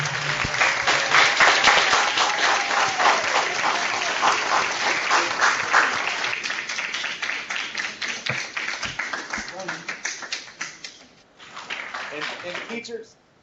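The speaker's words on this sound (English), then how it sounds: "join me giving a round of applause and saying thank you to Hall of Famer Joe" Students at a school event applaud Hall of Famer Joe DeLamielleure, loud sustained clapping from a room full of people that gradually thins out and fades, with a brief swell near the end.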